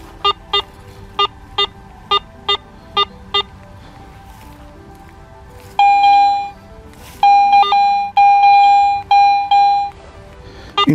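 Garrett AT Pro metal detector giving target tones: a run of short evenly spaced beeps, then a set of longer, louder sustained tones with brief gaps, close and clear with no talking.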